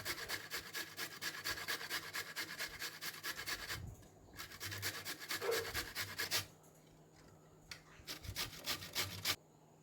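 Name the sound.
grating carrot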